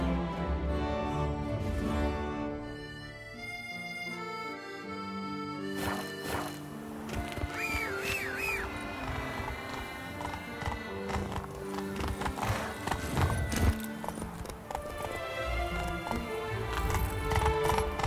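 Roach, the horse in The Witcher 3: Blood and Wine, thuds along in quick rhythmic hoofbeats with game music and effects around it, the galloping growing louder and busier toward the end.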